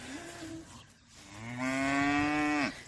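Young cattle, small and medium cows born in January, moo in a barn: a short low call, then a longer, louder, drawn-out moo close by, with no talking.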